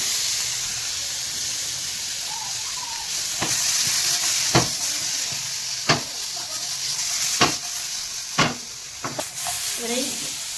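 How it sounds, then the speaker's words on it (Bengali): Tomato fries in a pan for butter mushroom, giving a steady hissing sizzle with sharp intermittent clacks of a spatula stirring against the metal. "এবারে ওইভাবেই আমি টমেটোটা একটু ফ্রাই করে নেব"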